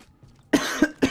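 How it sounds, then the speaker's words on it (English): One person gives three sharp, close coughs in quick succession after a moment of near silence, each a harsh burst, with the last two spaced slightly closer together. "I apologize for my coughing."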